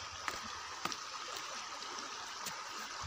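A shallow hill river flows with a steady, soft broadband rush, faint and even, with a few small splashes or knocks.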